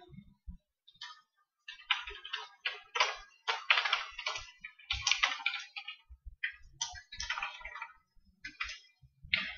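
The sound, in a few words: typing code on a computer keyboard in BlueJ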